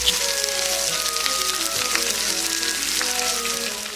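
Continuous crackling sizzle of butter in a hot frying pan with a steak, close and fairly loud, with a dense popping texture throughout.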